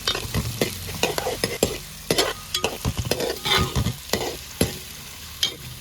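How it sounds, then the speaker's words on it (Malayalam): Ginger, garlic, shallots and green chilli sauté in hot oil for a village-style fish curry, a spoon scraping and clattering in uneven strokes over a steady close sizzle with no voices. "അരിഞ്ഞു വെച്ച ഇഞ്ചിയും വെളുത്തുള്ളിയും ചുവന്നുള്ളിയും പച്ചമുളകും കൂടി ഇട്ട് കൊടുക്കാം വഴലാൻ വേണ്ടി"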